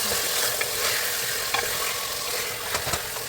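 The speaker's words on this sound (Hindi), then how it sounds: "चिकन को जिंजर गार्लिक के साथ फ्राई करेंगे थोड़ा" Chicken frying in hot oil with ginger and garlic, a loud, steady sizzle broken by a few brief scrapes of stirring and no voices.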